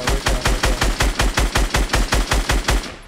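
Rapid automatic gunfire in Fortnite rattles in a steady, evenly spaced burst of about a dozen loud shots, close and sharp, with no voices over it.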